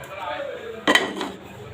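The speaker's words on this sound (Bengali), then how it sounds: "এখন আমি ভালো করে নেড়ে দিব যাতে সুজিটা দলা না হয়।" A spoon knocks and scrapes against a pot while semolina cooks in cow's milk, with a couple of short clinks over quiet background hiss.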